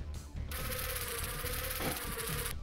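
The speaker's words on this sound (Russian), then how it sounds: "Мухи что-то вообще лютуют там, смотрите." Swarm of flies in The Binding of Isaac: Afterbirth buzzing continuously in a dense, steady drone, close and alone, with no voices over it.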